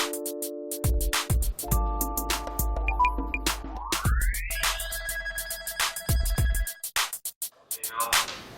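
Ringback tone of an outgoing phone call to a private tutor: repeated electronic ringing bursts with brief gaps, fairly loud and close, with no talking.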